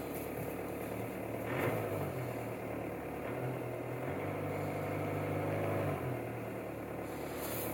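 A 2009 Dodge Journey engine idles after a cold start, high idle slowly settling, a steady, moderately loud hum with slight swells in pitch and level and no speech.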